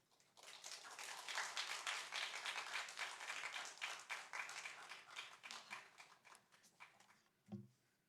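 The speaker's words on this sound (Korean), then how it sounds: "나오실 때 큰 박수로 환영하도록 하겠습니다" A church congregation at a Friday prayer meeting breaks into applause, many hands clapping in a dense, sustained burst that gradually thins out and fades over several seconds.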